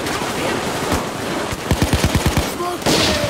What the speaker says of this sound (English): Yeah, that's a machine gun outside, okay.